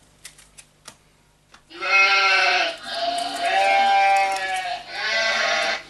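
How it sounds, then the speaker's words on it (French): An Arduino children's toy prototype plays a recorded sheep bleat after a few light clicks, one loud, long, wavering call lasting several seconds with two short breaks, close and clear. "Mouton."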